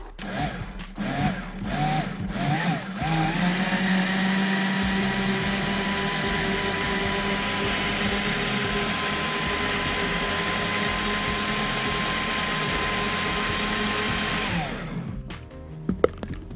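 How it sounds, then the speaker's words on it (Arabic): A blender whirs steadily and loudly while it blends a strawberry milkshake with a little milk. The motor starts with a few quick pulses, then runs for about ten seconds and cuts off near the end. "ونضرب اول ضربه"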